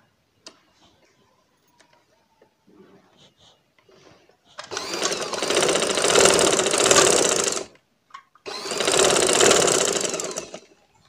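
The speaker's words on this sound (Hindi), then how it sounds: "देखिए अब हम इस साइड पे सिलाई लगाएंगे।" A sewing machine stitches the side seam of a baby frock in two steady, rapid runs of about three seconds and two seconds, split by a short pause. Quiet handling noises and faint murmurs come before them.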